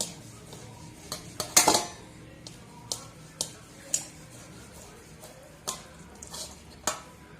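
Potatoes are grated bit by bit onto a plate for a potato and sago chakli recipe, giving a run of brief scraping and clinking strokes with a louder burst near the start, then sparse taps.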